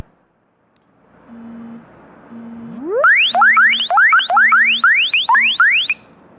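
A mobile phone anti-theft alarm app goes off once the charger is unplugged: a faint steady low tone, then loud, rapidly repeating rising electronic chirps.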